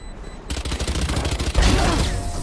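Rapid bursts of gunfire in the Valorant shooter game, a dense run of close, loud shots that builds into a heavier, more chaotic volley, with only a faint hint of voices.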